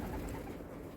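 Pigeons cooing outdoors on an easterly wind, a dense continuous murmur of soft low coos from a nearby flock with no pauses or talk.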